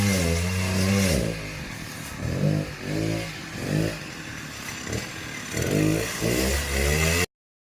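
A chainsaw runs close by on an off-grid building site in the Philippines, its engine revving up and down in repeated surges before cutting off abruptly.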